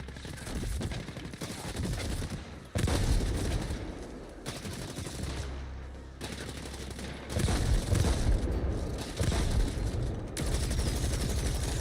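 In a video game, turrets fire bursts of rapid gunfire, loud and dense, in several long volleys separated by brief pauses, with no talking.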